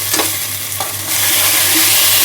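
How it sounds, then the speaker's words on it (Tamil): Ginger-garlic paste is sautéed in a pan for a kurma, with a loud, close, continuous sizzle and a few scraping stirs over the top. "இந்த மாதிரி நல்லா வதக்கிடுங்க"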